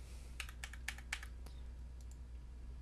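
Keys on a computer keyboard tapped as a meeting ID is typed, a quick run of about eight crisp clicks followed by a couple of isolated presses, close and clear over a quiet hum.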